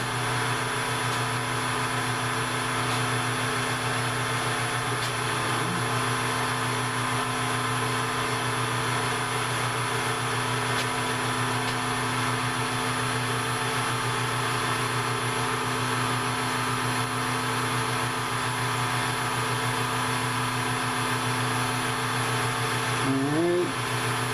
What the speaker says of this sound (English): we're going to go over it one more time with 800 grit sandpaper